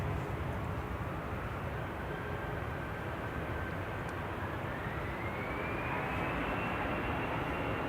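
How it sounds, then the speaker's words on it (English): An EasyJet Airbus A320 Classic rolls down the runway for takeoff at Manchester Airport, a steady, fairly faint jet rumble with a slowly rising engine whine and no speech. "EasyJet heading off to Coles. Flight 2087, this is GEZTZ, A320 Classic on the roll."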